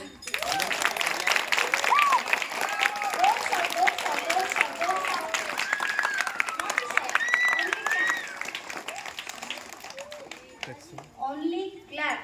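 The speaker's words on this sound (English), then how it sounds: "Now loudly clap." At a school's annual prize distribution, a large crowd claps loudly and steadily, with children's voices chattering over the applause before it fades and speech takes over near the end.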